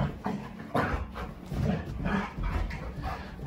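Energetic dogs playing rough indoors, chomping at each other's necks, with continuous close growling, grumbling and snarling that rises and falls in bursts for several seconds.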